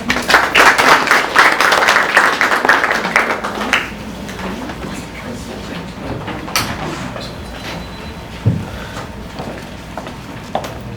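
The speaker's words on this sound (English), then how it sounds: "Please give him a round of applause." A crowd at a business networking event applauds loudly for a few seconds, then the clapping thins out into scattered claps and room noise.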